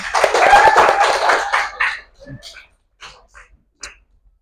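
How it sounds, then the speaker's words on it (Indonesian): A class claps for a student's answer during a coding and artificial intelligence lesson, a short burst of clapping that dies out after about two seconds, followed by faint scattered taps and murmurs. "kita berikan tepuk tangan"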